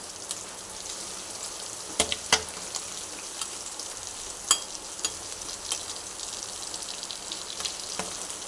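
Sardines fry in a pan with a constant hiss of oil, broken by sharp crackles and louder pops every second or so, close and without talk.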